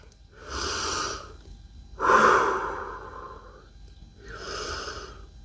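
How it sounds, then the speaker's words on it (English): Slow, deep breaths taken in a yoga sphinx pose during a home strength and mobility workout: three long, airy inhale and exhale cycles, close and fairly soft, with no talking. "We're just gonna breathe here for a few breaths."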